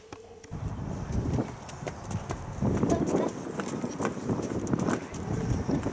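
Donkey hooves clip-clop in a steady walking rhythm, fairly close, continuing throughout under a low background, part of a Year 2 school nativity play.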